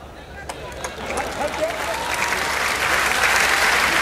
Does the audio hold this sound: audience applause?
yes